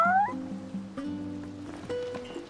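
A cat in the video game Final Fantasy XV lets out a few drawn-out, tonal meows, clear and close, with no speech over them.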